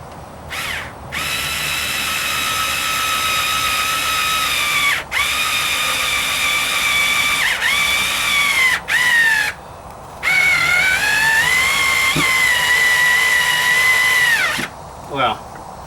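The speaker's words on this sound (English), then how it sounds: "let's see if I can get these screws to go in the cheating way" A Black & Decker cordless power screwdriver whirs in several bursts, its motor pitch dipping as screws bite and drive home without pre-drilling, with short pauses between runs.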